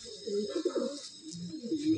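A closed-tail pigeon coos nearby, with a few low, soft rolling calls in quick succession over a short stretch and faint background murmur.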